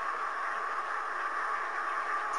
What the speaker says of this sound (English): that's actually the hydrogen oxygen coming out of the new Series 9 hydrogen